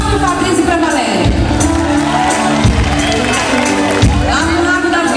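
A graduation party crowd at a physiotherapy class celebration cheering, whooping and clapping in loud continuous bursts, dense and close, with voices shouting throughout.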